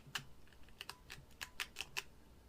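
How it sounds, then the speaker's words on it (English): Quick keystrokes on a computer keyboard as a name is typed, about a dozen sharp clicks in a short uneven burst over a quiet background with no talking. "I'm going to move to the very bottom of the file, and I'm just going to write my name."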